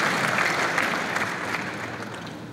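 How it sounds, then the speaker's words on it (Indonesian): Audience applause at a regional governor's address during a national press day ceremony, a dense, steady wash of clapping from a large crowd that stays loud and even throughout without any talk over it. "Tepuk tangan untuk PES Nasional."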